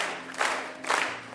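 At a wedding, guests applaud and cheer as the newlyweds enter, a loud crowd roar with clapping that rises in two surging waves over a short moment.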